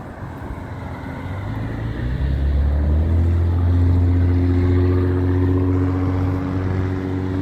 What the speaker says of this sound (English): There's always going to be so much traffic. Busy stretch of road, so.